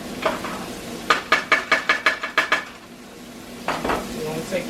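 Onions cooking in a pan for chicken Alfredo penne, with a steady sizzle under a run of about eight sharp metallic scrapes of a utensil against the pan, then quieter sizzling and a few more clanks near the end.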